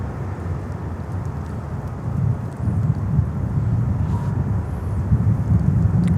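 A jet airliner climbs out after takeoff at Miami Airport, a broad, steady low roar close by that swells slightly louder partway through and holds, with no talk.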